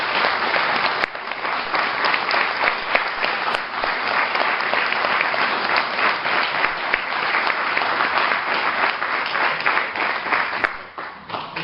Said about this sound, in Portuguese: eu peço uma calorosa salva de palmas